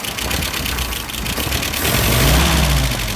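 A YS 37SA model aircraft engine is turned over and runs with a loud, steady buzzing drone that deepens and grows slightly louder near the end, close by, with no talking.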